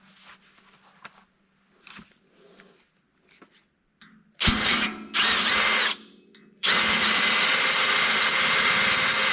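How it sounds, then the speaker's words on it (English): A power drill with a metal bit whirs loudly in several sustained bursts after some quiet handling noises, grinding steadily as it bores through steel during assembly of a Billy Goat towable lawn aerator. "I've got to bore that out with a metal drill"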